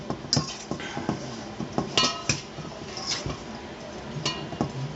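Seasoned parmesan garlic croutons are tossed and stirred in a bowl, giving a run of crisp clinks and dry rattling knocks at an uneven pace, close and fairly quiet.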